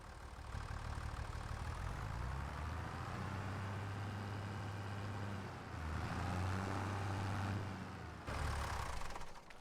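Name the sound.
tractor engine moving in Farming Simulator 25 video game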